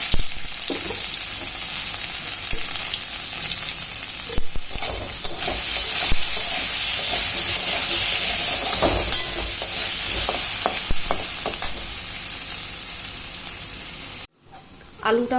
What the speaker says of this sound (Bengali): একটু নুন হলুদ দিয়ে আমি আলুটা ভেজে দিই।